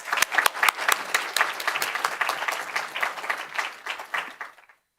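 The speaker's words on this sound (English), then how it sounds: "So let's give him a round of applause." An audience applauds a speaker at an evening talk session, with close sharp claps at the start, then dense sustained clapping that fades out near the end.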